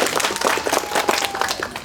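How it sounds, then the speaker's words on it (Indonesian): An audience applauds at an Indonesian government ceremony handing over presidential aid cattle, with dense, sustained clapping from many hands that stays loud and steady throughout. "Tepuk tangan dulu buat Presiden Prabowo Subianto."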